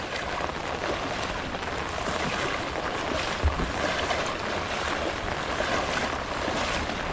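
Floodwater from heavy monsoon rain in Konkan rushes under strong pressure, producing a continuous, dense, roaring wash that stays loud and even throughout, with no voices.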